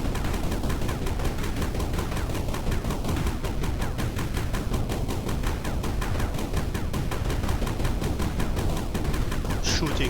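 Dense, continuous video game gunfire rattles on without a break, rapid automatic bursts layered together at close range and steady loudness, with no voices over it.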